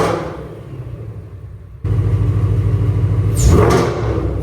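Supercharged 2024 Ford Mustang GT V8 idling with a low rumble, then jumping louder as it revs, a rising whine swelling near the end, recorded close with the hood open.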